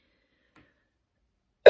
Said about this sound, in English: I hope I'm not gonna get a cough attack again